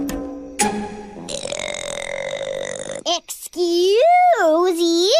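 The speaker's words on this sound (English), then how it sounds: "Burp! You've got to let her rip." An animated female cartoon character lets out a long, loud belch near the start, followed by a rising and falling voiced sound, with a short gap in the middle.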